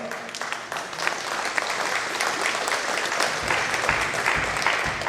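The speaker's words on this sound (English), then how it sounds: "Give them a big round of applause." An audience claps steadily in a hall, a dense, sustained round of applause at moderate volume that carries evenly through the whole stretch with no talking over it.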